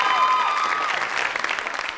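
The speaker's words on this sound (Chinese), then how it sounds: "还有这掌声是什么鬼？" A canned crowd-applause sound effect plays in a fan-made Pleasant Goat adventure video game, opening with a brief tonal chime before a dense, even burst of clapping fills the short moment.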